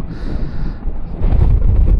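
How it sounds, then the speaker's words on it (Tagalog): Strong wind buffets the microphone at Malico, San Nicolas, Pangasinan, with a rough, low rumble that surges louder midway, gusty and close. "Kasi ang lakas ng hangin"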